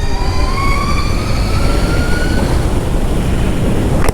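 Electric motorcycle riding through a tunnel, a loud steady whine with rising tonal sweeps over a dense, echoing rumble that fills the whole stretch, ending in a sharp brief burst.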